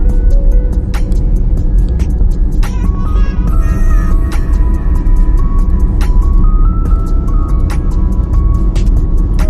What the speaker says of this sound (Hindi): चला लिए दोस्तों, गाड़ी चला लिए।